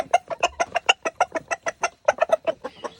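Farm chickens and roosters cluck close by in a fast, steady run of rhythmic clucks that barely pause, with no talking.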